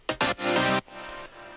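Two synth layers playing chords together for a dance track, one a weird cutoff synth: a short stab, then a bright sustained chord that cuts off abruptly, leaving a faint tail.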